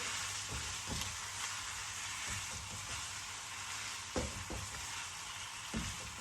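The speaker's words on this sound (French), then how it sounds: "on va venir y rajouter nos environ 300 g de moule. Et c'est pareil, on remue." Mussels, shrimp and vegetables fry in a wok with a steady quiet sizzle, broken by a few soft scrapes and clacks of a utensil as the mixture is stirred, with no voices.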